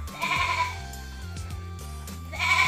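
Senduro and PE Kaligesing goats bleating in repeated calls, loud and close, with a long wavering cry at the start and another rising near the end, no talk.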